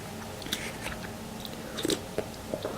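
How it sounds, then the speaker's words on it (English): Someone quietly chews and bites into a bowl of pho with lime, soft wet crunches and mouth sounds close to the microphone in an otherwise quiet setting. "I'm going to taste it, see how I like it now."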